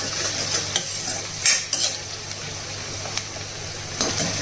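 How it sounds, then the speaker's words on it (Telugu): Ginger garlic paste fries in a pan, a soft steady sizzle under repeated spoon scrapes and clinks against the metal, close by, with no talking. "అల్లం వెల్లుల్లి పేస్ట్ పచ్చివాసన పోయేంత వరకు వేయించాలి."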